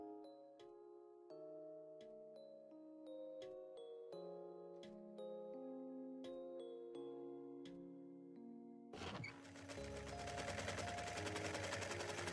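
Sewing machine in the video game Yandere Simulator, heard as a rapid mechanical stitching clatter over tonal game music, loud and steady for several seconds near the end.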